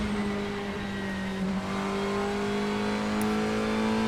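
A race car engine in the Assetto Corsa racing game holds a steady, sustained drone at near-constant pitch, fairly loud and close, with no speech over it.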